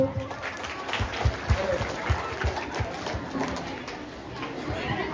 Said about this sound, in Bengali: ঠিক আছে, বিবেক বৈদ্যের জন্য একটা হাততালি হোক।